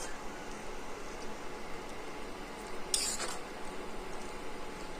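Egg tadka being stirred in a pan with a utensil, a steady soft scraping and faint sizzle throughout with one brief sharper clink of metal near the middle, fairly close and alone.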